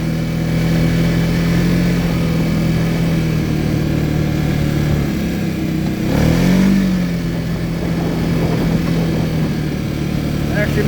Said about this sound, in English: Thank God for this multi-level power steering on this quad. It is making easy work of this.